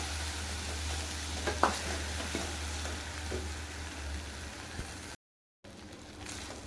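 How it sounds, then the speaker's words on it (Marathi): Soaked moong dal being sautéed in a pan for millet coconut khichadi, a steady low sizzle and frying hiss with a few soft stirring scrapes, brief dropout near the end. "यामध्ये आपण ॲड करतोय मुगाची डाळ भिजवून घेतलेली आपण अर्धा तास. ती आपल्याला परतून घ्यायची आहे."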